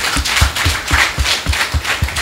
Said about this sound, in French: Ça s'applaudit également.